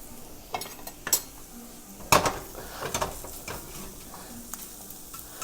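Ginger threads cooking in a hot pan on a kitchen stove, with scattered metal clinks and scrapes of a utensil against the pan over a faint, low sizzle, with one sharper clatter partway through.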